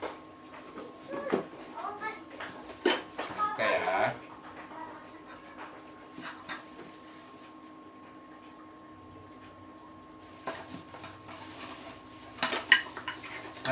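Camping cookware is handled up close: a frying pan, a large pot and a small pot with lids clink and rattle in scattered bursts, with a person talking throughout and a dog panting nearby.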